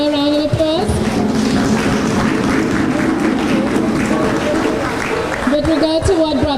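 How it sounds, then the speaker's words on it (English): A crowd applauds Tina at a Merikin Heritage Foundation symposium in Nia Valley, a steady, dense wash of clapping lasting several seconds with voices and tonal sounds mixed in. "we'd like to give Tina a round of applause"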